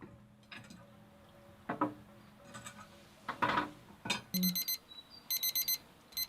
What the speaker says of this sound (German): Die Tablettendose mit dem eingebauten Wecker